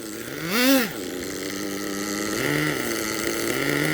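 A nitro-powered RC monster truck engine runs close by, a buzzy high-pitched drone that swells in a brief rev and then settles into a steady idle with slight wavering pitch.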